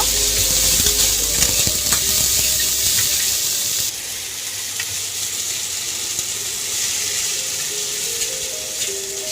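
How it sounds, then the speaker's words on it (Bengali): Spice masala with salt and turmeric frying in oil for an egg and potato curry: a loud, close, hissing sizzle with stirring. It drops in level partway through, then carries on steadily, with no speech. "একটু হলুদ দেব ভালো করে মশলাটা কষিয়ে নেব"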